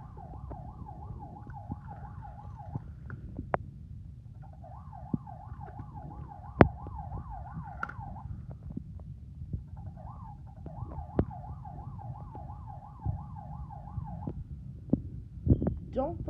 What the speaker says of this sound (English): Sirens on, here we go.